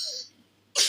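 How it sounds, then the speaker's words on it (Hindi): A child gives a single short, sharp cough close by, after a moment of near quiet. "खांसी क्यों हो गई तुम्हें?"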